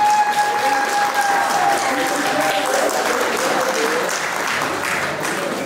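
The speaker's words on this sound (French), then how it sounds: "Applaudissez pour elle, s'il vous plaît, Sonia Traiteur" Wedding guests applaud the caterer in a steady, full burst of clapping that fills the room, with a faint voice or music tone threading underneath.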